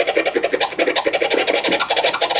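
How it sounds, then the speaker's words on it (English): Turntable chirp scratches, a vocal sample cut short by quick fader moves, come as a rapid, evenly pulsing string of clipped chirps. They are close and loud and sound alone. "Those are chirps."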